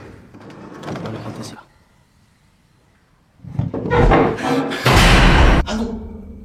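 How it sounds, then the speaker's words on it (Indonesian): A chair thrown backward hard inside a reputedly haunted house, landing as a loud, close thump and clatter amid commotion, after a quieter stretch of voices and shuffling. "kursi tersebut terlempar ke belakang dengan sangat keras"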